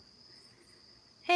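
Crickets chirp outdoors in a faint, steady, continuous high trill, cut off at the very end by a sudden loud burst of another sound.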